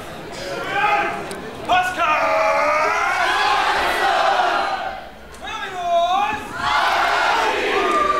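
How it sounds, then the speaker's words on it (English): A rowdy crowd at a live wrestling show yells, whoops and cheers loudly throughout, with sustained roaring swells and a brief dip midway before rising again. "We've got a rowdy crowd in the house tonight."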